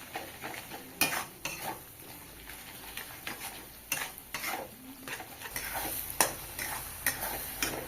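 Spice masala of turmeric, roasted coriander-cumin powder and salt stirred and fried in a pan for egg potato biryani, with scraping spoon strokes and soft sizzling coming in irregular bursts, moderately quiet and close.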